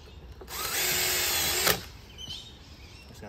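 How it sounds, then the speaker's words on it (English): Cordless power drill driving screws into PVC privacy fencing outdoors, one steady high whir lasting about a second, close by, ending in a sharp final catch before going quiet. "Just gonna finish screwing this off."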